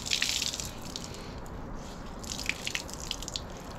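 Water dripping and splashing from a rinsed cloth as it is wrung out, a brief burst of spatter followed by scattered soft drips, close and fairly quiet over a hissy background.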